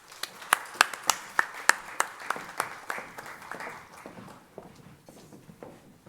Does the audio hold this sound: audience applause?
yes